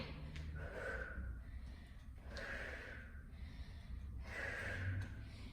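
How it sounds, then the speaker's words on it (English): Three big rhythmic exhales come out as breathy, forceful puffs roughly a second apart, close and quiet, during a home barre workout. "I'm going to give myself some big exhales"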